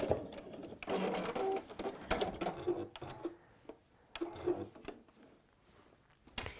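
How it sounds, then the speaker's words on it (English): A sewing machine runs in short bursts, stitching forwards and then straight back over the seam, with uneven stop-start whirring at close range and brief pauses between runs. "I'm stitching forwards, and then I'm stitching straight back over."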